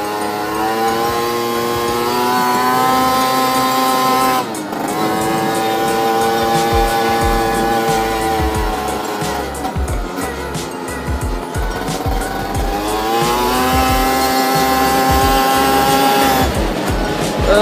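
A small 50cc Adly 50 RS quad runs steadily close by, its engine buzzing with a harmonic drone that rises and falls with throttle changes, dipping briefly at a couple of points, with no talk over it.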